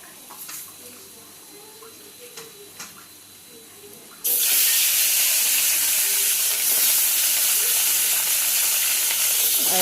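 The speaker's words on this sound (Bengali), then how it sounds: "তো মাছগুলো দেখো আমি ভেজে ভেজে তুলে নিচ্ছি" Fish frying in a pan of hot oil: quiet kitchen noise with a few clinks at first, then a sudden loud, steady sizzle that continues to the end.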